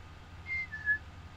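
A person imitates a two-part whistle heard during a Bigfoot encounter at Mount St. Helens: two brief, thin, rising tones close together, fairly soft, with no talk around them.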